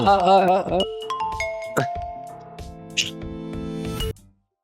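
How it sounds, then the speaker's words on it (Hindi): A melodic electronic ringtone plays a sequence of bright sustained tones, with a few short clicks and taps mixed in, then stops abruptly. "बस एक फोन की घंटी का इंतजार है।"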